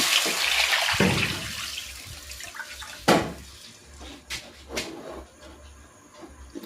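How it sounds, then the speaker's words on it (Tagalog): Water splashes and pours into a cooking pot with a rushing burst, followed by a few sharp clanks and knocks of the pot. "Maglalagay na ako dito ng tubig."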